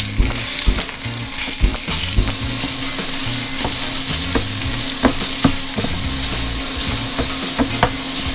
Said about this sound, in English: begin with a pound of breakfast sausage. And we're just going to fry that down and kind of break it up